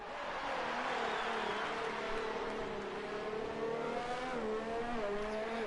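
Ferrari race car engine on a hot lap at the Japanese Grand Prix in a racing video game, a sustained high revving whine with gear changes rising and falling, loud and alone.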